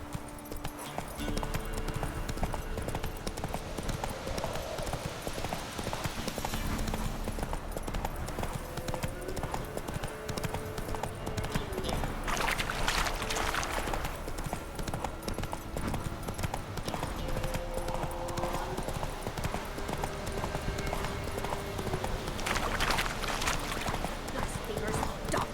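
Horse hooves clip-clopping at a steady gallop rhythm through the whole stretch, a ridden horse in The Witcher 3 game world, with game music and character voices talking over it.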